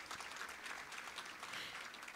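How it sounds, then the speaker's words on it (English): Audience at a women's recognition event offers brief applause, a faint, distant wash of many hands clapping for a couple of seconds. "I'm going to give them a round of applause, Portia Wu and Secretary Martinez."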